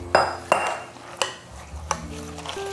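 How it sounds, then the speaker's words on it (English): A spoon clinks sharply against a bowl several times at a close distance while a pecan pie filling of sugar, pecan pieces, bourbon, vanilla, salt and eggs is stirred. "we're gonna combine the sugar, pecan pieces, bourbon, vanilla, salt, and eggs. And give them a good stir."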